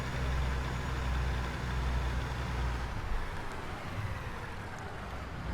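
A diesel truck engine rumbles low and steady in American Truck Simulator as the rig backs a trailer toward a diesel tank, a continuous idling drone at moderate volume with no other sounds.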